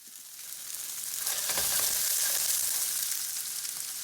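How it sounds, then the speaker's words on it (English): Boiled potato gnocchi sear in hot oil in a pan, a loud, continuous sizzle and crackle that swells in the middle and then holds steady, with no voices. "I prefer to sear it to give it a little extra flavor and a nice crunch"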